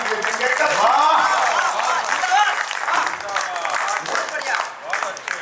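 Audience applause at a Hindi comedy poetry gathering, a sustained wash of clapping that rises and fades while a voice carries on loudly over it.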